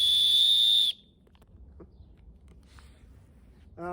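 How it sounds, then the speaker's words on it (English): A loud, steady shrill blast from a safety whistle on a life jacket lasts about a second and stops abruptly; a second short, harsher whistle tone starts at the very end. "I have a nice whistle on my life jacket so I can call for help"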